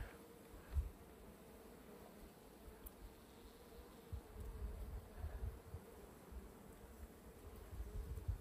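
Honeybees at an opened beehive during a first spring inspection, a faint, continuous buzzing drone with soft rustles and a few quiet knocks near the hive, with no one talking.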